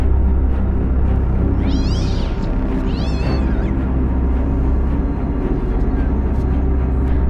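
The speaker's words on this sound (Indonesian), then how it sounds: "semua kucing milik wanita tua ini bertingkah aneh" Cats belonging to an old woman meow in a few short rising-falling calls around the middle, over a constant low rumbling background.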